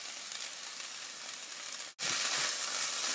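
Kale greens sizzle and fry in a pan, a steady close hiss that cuts out for a moment, then resumes slightly brighter and louder.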